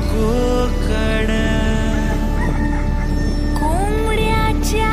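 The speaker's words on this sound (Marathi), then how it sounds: "कोंबड्याच्या आरवण्याचा आवाज" A rooster crows repeatedly in a rural Konkan village near an old Hanuman temple, its rising, wavering calls standing out clearly over a steady loud background hum, with no talking.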